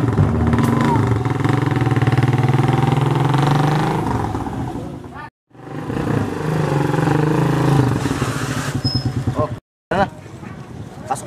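A motorcycle engine idles and drones steadily nearby, its low hum dipping twice to near silence, while people talk loudly in Tagalog over it throughout.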